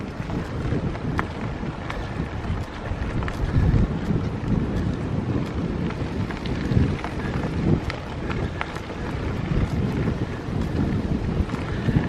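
Wind buffets the microphone while cycling through France, a loud, continuous roaring rumble with gusty swells and no talk.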